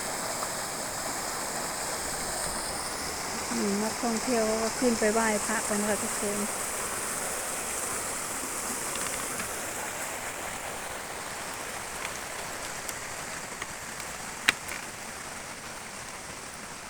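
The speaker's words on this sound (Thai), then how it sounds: "เป็นน้ำตกไหลมาค่ะ" Steady rushing water pours continuously from a waterfall at a hilltop temple in Thailand, with someone speaking briefly over it partway through.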